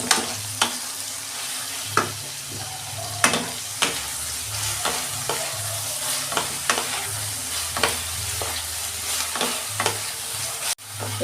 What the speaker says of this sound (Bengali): আমি এগুলো একটু ভেজে নেব।